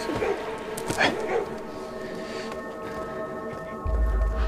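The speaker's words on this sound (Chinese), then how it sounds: "他是被狗叫吓着" Dogs bark and yelp at a palace in a Chinese costume drama, with a cluster of close barks early on and voices speaking alongside.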